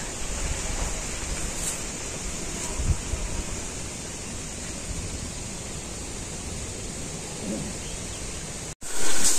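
Strong wind blows outdoors under an overcast sky in rural Bangladesh, a loud, steady broadband rush with no talking that cuts off abruptly near the end.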